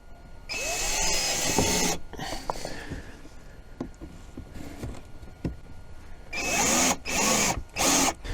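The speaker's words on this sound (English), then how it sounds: "Let me hook up the drill and of course turn the drill bit around" A power drill whines in sustained bursts, speeding up and cutting through a fender flare on a Can-Am Defender, with clattering handling noises between the runs.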